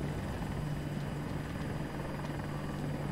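An attack helicopter in the video game Battlefield 2042 drones with a steady, loud rotor and engine hum that runs unbroken throughout, with no talking.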